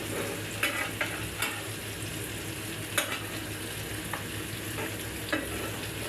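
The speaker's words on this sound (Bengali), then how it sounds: "পটল ভাজি প্রায় হয়ে আসছে।" Pointed gourd (potol) frying in a pan, a continuous close sizzle with occasional soft clicks of a utensil stirring, no voices.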